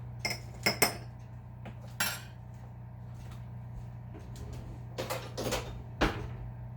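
A utensil clinks against a bowl as an Italian seasoning mixture is stirred, producing scattered light taps and scrapes with quiet gaps between them.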